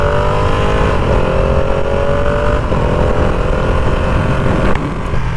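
A 2020 Ducati Panigale V2 engine revs hard while riding, a loud, close, continuous buzzing roar that climbs in pitch in repeated pulls, with wind rush underneath and the throttle easing off near the end.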